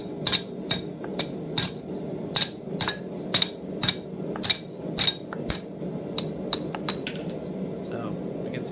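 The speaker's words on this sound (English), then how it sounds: "lay it over the edge of the anvil using the cross peen side of the hammer" The cross peen of a hammer strikes metal laid over an anvil edge again and again in a steady rhythm, each blow a bright clang over a low background hum.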